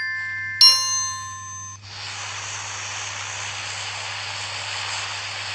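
A single bright chime of a notification in PUBG rings out once, then gives way to the steady drone of the aircraft engine inside the game's plane, loud and continuous with no talk.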